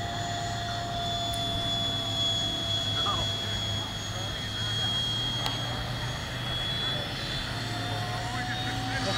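A monster-scale model Fokker D8 airplane makes low passes at an outdoor flying field, its engine a steady droning hum that persists throughout. Voices talk over the engine noise.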